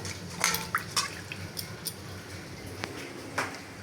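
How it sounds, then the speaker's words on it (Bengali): Lentils (dal) are rinsed in water in a home kitchen, with soft scattered drips, splashes and a few light clinks of a pot, close and quiet. "এখানে ডালটাকে ধুয়ে দিয়ে দিব"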